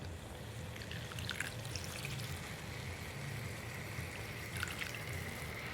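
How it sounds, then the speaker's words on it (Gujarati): Water trickles into raw banana sabzi in a cooking pot for gravy, a faint, steady pouring hiss lasting several seconds with a light splash near the end, heard close without talk. "હવે સેજ આપણે ગ્રેવી માટે"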